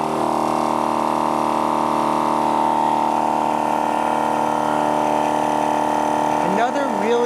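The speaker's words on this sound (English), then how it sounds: "because it has these dual pumps, which you'll see is a very unusual thing, it is absolutely, completely reasonably quiet" A VEVOR 10.6 CFM dual-pump air compressor runs steadily and close by with a constant, fairly loud mechanical drone that holds evenly throughout, with a brief shift near the end.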